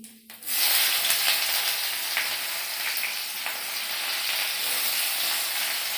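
Cumin seeds and chopped onion hit hot oil with a sudden loud sizzle that settles into a steady close frying hiss, with a few faint stirring clicks and no voices.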